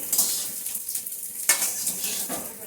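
Rice grains stir-fried in a pan for jeera rice, with a spoon scraping and clinking against the metal amid a soft sizzle, scrapes coming in uneven bursts, close by with no talking.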